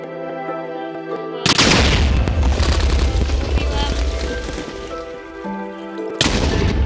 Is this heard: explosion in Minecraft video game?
yes